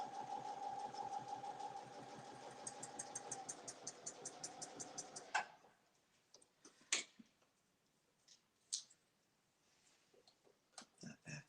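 A sewing machine runs in a fast, even stitching rhythm for about five seconds, then stops, leaving quiet scattered clicks and handling taps.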